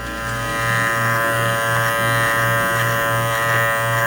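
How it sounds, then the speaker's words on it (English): An electric hair clipper fitted with a one guard buzzes loudly and steadily up close while trimming a beard, with a faint pulsing rhythm as it passes along the jaw. "I'll start with my clipper in the open position with my one guard on"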